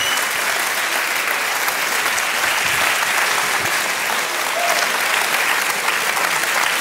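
A crowd at a Belgian pop music venue cheers and applauds in a steady, dense roar that fills the whole stretch, loud and continuous with no pauses.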